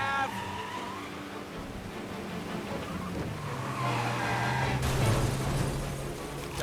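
Car chase in the 1930s-era game Mafia Definitive Edition: a steady engine drone and tire noise run throughout, swelling louder toward the end with a harsher burst that suggests the crash, fairly distant and unaccompanied by talk.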